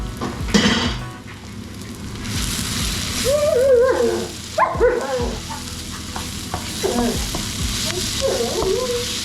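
A dog barks in short bursts in a home kitchen while spices fry and sizzle in a pan for Bombay potatoes, with steady stirring and sizzling underneath.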